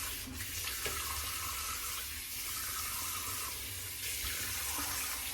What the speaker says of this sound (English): I got so much lather on my face, it takes longer to rinse off.